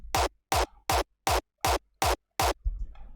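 Punchy kick drum layer sample with a low-cut EQ, struck seven times in a steady even rhythm, each hit short and loud with a deep thump and a brief decaying tail, alone and close.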